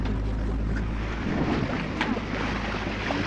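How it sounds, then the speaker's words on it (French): Sailboat motoring at sea toward Antigua, its engine giving a steady low drone under wind and water noise, continuous and close. "le moteur il tourne toujours"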